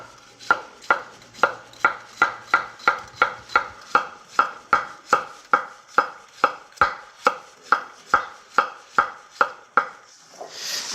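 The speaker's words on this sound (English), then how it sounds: "just cutting them nice," A knife slices zucchini into even pieces on a cutting board, about two dozen crisp close chops in a steady, regular rhythm, with no talking.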